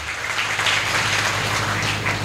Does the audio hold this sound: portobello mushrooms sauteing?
no